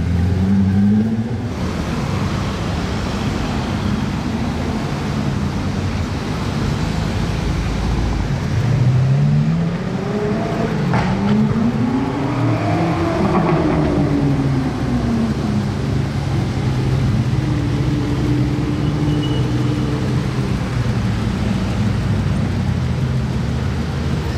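A modified supercar drives past in Monaco, its engine revving up and down in rising and falling sweeps over a constant loud roar of street traffic.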